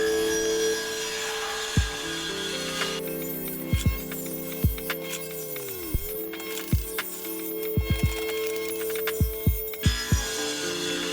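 Table saw ripping mahogany and pine boards into strips: a steady motor hum with sharp knocks and clatters, the motor winding down and spinning back up midway.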